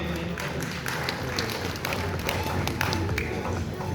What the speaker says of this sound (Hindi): मैं चाहूँगा कि इनके लिए एक दफ़ा ज़ोरदार तालियां होनी चाहिए